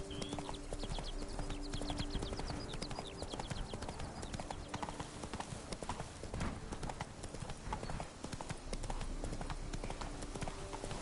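Roach, Geralt's horse in The Witcher 3 video game, gallops with rapid, steady hoofbeats that run throughout, mixed with game ambience and a brief voice.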